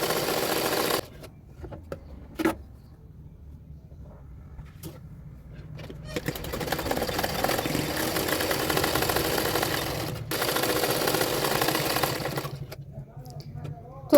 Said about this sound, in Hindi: अभी फिटिंग के लिए मैंने सिलाई कर रही हूँ